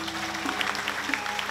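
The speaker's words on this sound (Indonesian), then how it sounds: "Tepuk tangan" Audience applause during a Balinese drama gong theatre performance, dense steady clapping with a tonal musical drone beneath it, fairly loud throughout.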